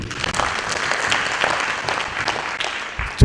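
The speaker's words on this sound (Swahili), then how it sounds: "Tumpigie makofi zaidi." Audience applause at a horticulture industry event in Tanzania: dense, close clapping from many hands, sustained and fairly loud throughout.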